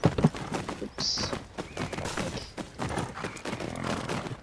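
A horse gallops in the video game Tales of Rein Ravine, its hooves beating a steady, rapid clip-clop close up throughout, with an occasional higher chime from the game.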